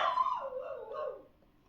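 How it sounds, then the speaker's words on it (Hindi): Single dog bark trailing into a short howl-like whine, faint and somewhat distant, heard alone in an indoor space. "कुत्ता भौंक रहा है"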